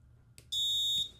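A buzzer on an ESP8266-based internet-controlled Christmas ornament prototype gives a single loud, sharp electronic beep of about half a second, standing alone after a faint click.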